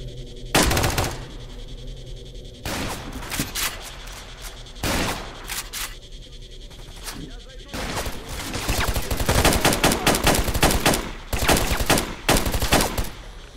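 Gunfire in the video game S.T.A.L.K.E.R. Call of Chernobyl: sharp single shots at first, then dense bursts of automatic fire, loud and close, with pauses between volleys.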